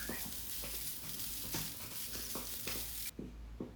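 Shallots, grated coconut and curry leaves fry in a pan for varutharacha sambar, giving a steady close sizzle broken by repeated scraping stirs throughout.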